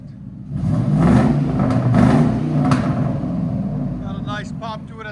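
A 1999 Ford F-150 4.6L V8 with no catalytic converters and Borla ProXS exhaust revs up and holds in a deep, rumbling roar through an open exhaust, then eases off as faint chatter comes in.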